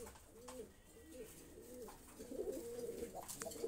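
Fancy pigeons, Jacobins among them, coo softly in a loft: several low, rolling coos repeat across the stretch with faint background noise and no talk.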